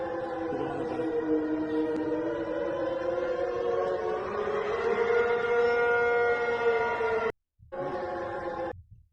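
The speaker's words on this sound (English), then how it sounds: "they've been testing missile warning sirens." A missile warning siren sounds during a test in Taiwan, a long wailing tone rising and falling steadily, cut off briefly near the end before resuming, with no voices.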